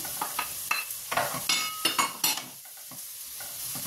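Mushrooms and aromatics sauté in a pan for a vegetable chicken soup, a crackling sizzle under frequent scraping and tapping strokes of the spatula, busy and close, easing briefly before picking up again.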